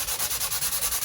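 Wood sanded smooth after working through several grits gives a quick run of even, rhythmic scratching strokes, close and steady, with no talk.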